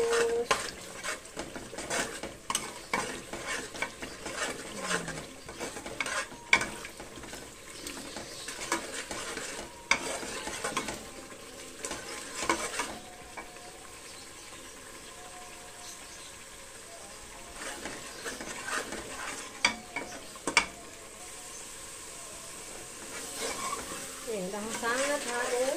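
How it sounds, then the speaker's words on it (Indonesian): Spice paste for rendang stirred and frying in a pan, a steady low sizzle with repeated scraping strokes of a spoon against the pan and occasional clinks of utensils, fairly close and moderately quiet. "Bumbunya sampai benar-benar mateng. Aduk terus."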